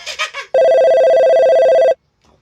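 A new cellphone rings with one loud, sustained electronic ringtone tone lasting over a second, cut off abruptly. Brief chattery voices come just before it.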